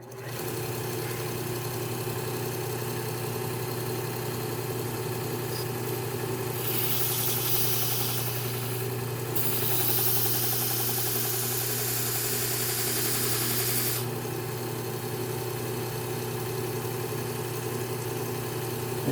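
Trizact belt sander running while garden tools are sharpened, a steady motor hum under a hissing grind that rises for several seconds as metal meets the belt, with no talk.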